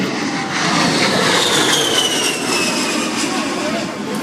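Loud, steady jet roar of an A-10 Thunderbolt II passing close overhead fills the air with a faint descending whine, no talking heard.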